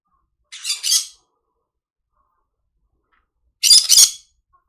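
Pet birds let out two loud, harsh squawks, each a quick doubled burst, separated by about three seconds of silence, close by.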